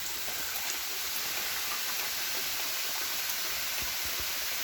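Greenhouse watering nozzles spray water in a steady, even hiss like fine rain, continuous and fairly close without breaks.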